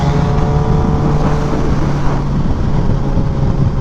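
Kawasaki Ninja ZX10R sport motorcycle engine droning steadily under throttle, loud and close, a continuous hum mixed with broad wind rush and no rise or fall.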